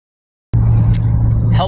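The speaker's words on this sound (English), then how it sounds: "Right now I'm driving to a place called Pillars." Steady car engine drone from inside a moving vehicle, starting abruptly after a moment of silence and holding a constant low hum for just over a second with faint road noise on top.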